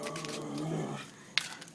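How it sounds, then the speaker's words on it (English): A dog growls and barks indoors, reacting to a cat nearby, with a short sharp yelp near the end over low room noise. "Can you hear my dog?"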